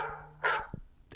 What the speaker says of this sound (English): That was the Roscoe bark.